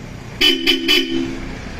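Three short horn toots in quick succession followed by a longer held honk, loud and close, from the stock horn of a Honda ADV 350 motorcycle.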